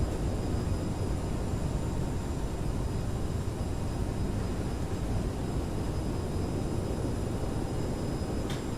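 A CRJ7 jet in Microsoft Flight Simulator roars under full thrust reversers while braking on landing, a dense, constant broadband rush of engine noise that stays loud and steady throughout.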